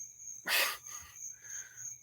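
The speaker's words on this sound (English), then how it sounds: "digging the cicadas" Cicadas and similar insects buzzing under a tree, a thin high drone that holds steady through the whole clip, joined by a brief louder rustling burst near the start and a faint background hum.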